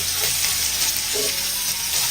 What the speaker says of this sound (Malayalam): മീഡിയം സൈസ് 4 സവാള നീളത്തിൽ കട്ട് ചെയ്ത് ചേർത്ത് കൊടുക്കാം